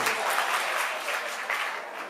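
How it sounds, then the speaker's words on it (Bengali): Audience clapping at a Pohela Boishakh cultural event in New York, a short burst of moderately faint, dense applause from a crowd with no voices. "একটু জোরে হাততালি দেবেন"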